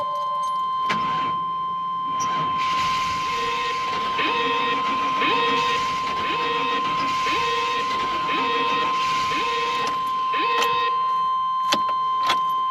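A 1996 Chevy K1500 Silverado pickup engine, fitted with a new distributor cap and cam sensor, cranks with a steady rhythmic chug for several seconds under a constant whine, then settles, with a few sharp clicks near the end.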